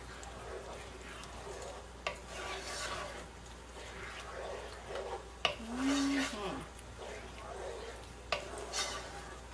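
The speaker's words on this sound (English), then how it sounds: "Give that a good mix." A cream sauce for chicken pasta is stirred in a pan with soft, intermittent scraping strokes and light taps, faint throughout, with a brief tonal hum partway through.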